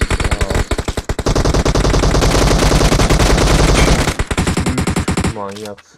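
Sustained automatic gunfire from a PUBG Mobile match, loud rapid bursts running for several seconds before cutting off abruptly, followed by a brief faint voice.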